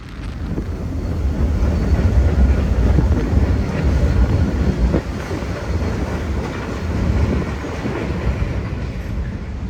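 A freight train on a rural branch line rumbles past steadily with a low, continuous roar and faint wheel clatter, close by, with wind buffeting the microphone throughout.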